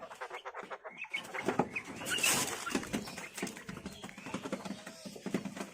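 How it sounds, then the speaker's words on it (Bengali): Quail chirp and peck around a home yard as they gather to be fed, a busy stream of short close calls and scratchy clicks with a brief louder burst midway. "কোয়েল মুরগিগুলো এখানে চলে আসছে তো খেতে দেবো"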